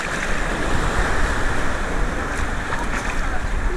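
Beach surf makes a continuous broadband wash, fairly loud and steady, mixed with wind buffeting the microphone.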